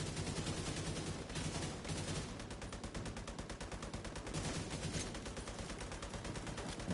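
Rapid bursts of gunfire shooting at an enemy in a video game rattle on continuously, with dense machine-gun-like repetition that holds steady throughout.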